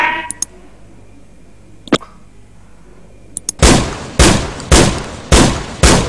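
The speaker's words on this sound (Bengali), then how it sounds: "দেখুন এখানে বিভিন্ন রকমের গান ফায়ার" Gunfire effects from a sound library play back: a few sharp isolated cracks, then five loud, evenly spaced booming shots with decaying tails, heard alone without any voice.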